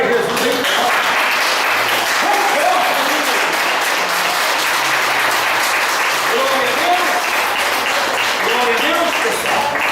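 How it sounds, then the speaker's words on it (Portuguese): A church congregation breaks into loud, sustained applause, dense clapping filling the room for the whole stretch while voices shout and speak over it. "vamos dar uma salva de palmas para Jesus"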